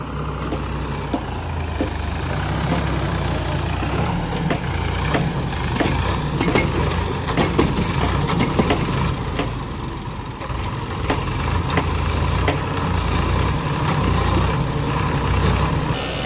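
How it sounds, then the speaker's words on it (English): A stuck tractor engine idles with a heavy, steady low rumble and strong vibration, running loud and continuous throughout with no talking. "Tractor got stuck."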